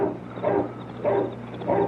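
Dogs barking at night near an island, three separate bark bursts at roughly even intervals, fairly close and clear against a quiet background.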